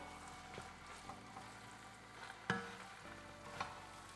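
Pineapple fried rice with spring onions and parsley stir-fried in a pan: a soft, steady sizzle with a few light scrapes and clanks of a utensil being mixed through, quiet and without talk.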